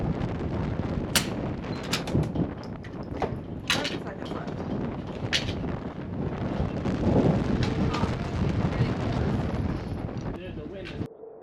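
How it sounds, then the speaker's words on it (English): Strong wind buffets the microphone at an outdoor rifle range, a steady rumbling roar throughout with a few sharp distant cracks over it and a voice talking beneath. "Dude, the wind is crazy."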